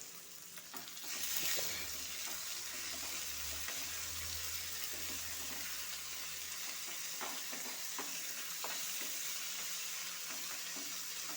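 Chopped tomato with salt is stirred in a hot pan, making a continuous close sizzle with soft scraping strokes for the whole stretch and no voices.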